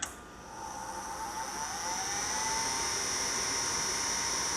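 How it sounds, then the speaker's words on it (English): A gas furnace starts its heating sequence with the booster motor spinning up into a steady, fairly loud whir. A high tone rises and holds throughout, with no voices. "Furnace is going through a sequence. Thermostat, booster motor, pressure switch."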